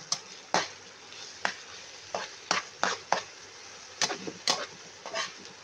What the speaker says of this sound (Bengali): তেল দিয়ে একটু নেড়ে দিলাম। আর পেঁয়াজটা হালকা একটু লাল কালার হয়ে আসতেছে